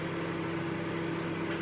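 A microwave oven runs with a steady low electrical hum and a faint whirr as it heats a supermarket meal deal, an unchanging drone heard alone and fairly quiet for a brief stretch.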